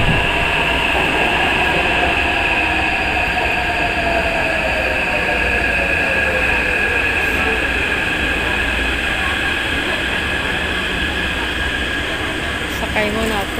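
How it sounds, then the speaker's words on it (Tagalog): A Manila MRT metro train roars loudly and continuously as it pulls in and rides, with a steady rumble and high whine from the motors and rails. "Sasakay na ako ng MRT."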